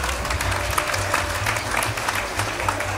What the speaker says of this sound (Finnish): Antaa vielä isot aplodit.